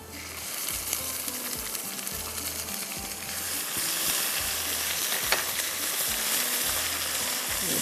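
Ginger and garlic frying in a hot pan with garam masala, a steady close sizzle with occasional stirring scrapes and no talking.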